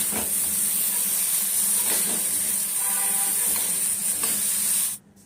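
Chicken fingers coated in honey with chopped spring onion sizzle in a pan, a steady close hiss with a few soft stirring knocks, ending abruptly near the finish.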